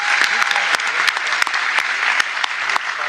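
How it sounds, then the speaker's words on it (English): Crowd applause at a Mets and Major League Baseball event unveiling veterans department upgrades, steady clapping with a few sharp louder claps standing out. "Yes, you can clap for that."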